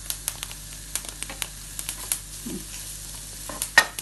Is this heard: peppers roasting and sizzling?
yes